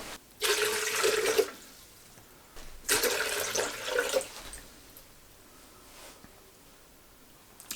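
Tap water runs into an Almond Cow oat milk maker jug in two strong bursts with a short gap between, then stops, leaving quiet room tone.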